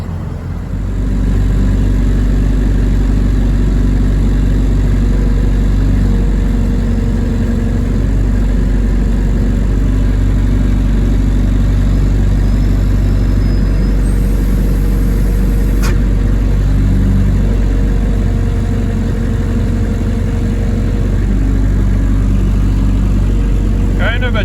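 Hydraulic machine engine running steadily at a loud, constant idle-like drone while it pushes down to break the bead on a rotten tire, with a brief higher whine partway through.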